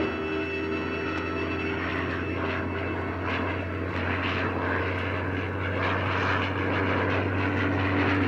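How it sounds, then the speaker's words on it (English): A propeller airplane drones overhead, a loud steady engine roar with strong tonal hum that swells slightly as it passes, with no voices. "Sonny, the plane's due any minute."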